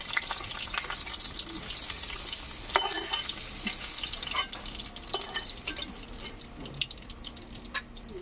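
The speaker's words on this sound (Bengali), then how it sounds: "আমি জলে রাখলাম তুলে, পনিরগুলো যাতে নরম থাকে।" Freshly fried paneer pieces dropped into a bowl of water in a home kitchen, a soft continuous watery wash with a few faint drips and clinks, quiet and close, no talking.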